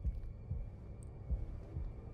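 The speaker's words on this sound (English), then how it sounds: "I'm hearing a heartbeat." A heartbeat sound effect in an animated episode pulses as steady low thumps, about three beats in two seconds, fairly loud over a dull hum, with no speech.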